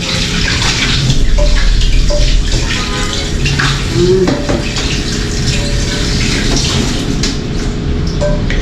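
Hot water gushes steadily from a kitchen tap, a loud continuous splashing rush with occasional clinks and small knocks of dishes or pans alongside.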